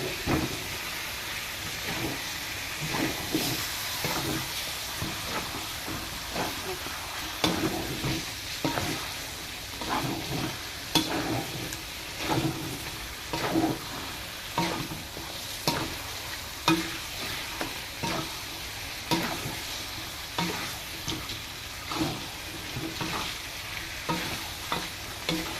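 Chicken curry frying and being stirred in a pan, a steady sizzle broken by repeated scraping stirs in an irregular rhythm, close and clear with no talking.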